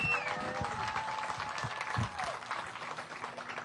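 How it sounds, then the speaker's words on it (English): A large crowd claps and cheers steadily at a Bassmaster Elite Series bass fishing weigh-in at Lake Seminole, dense sustained applause heard from the stage area with a few whoops mixed in. "Give yourselves a round of applause."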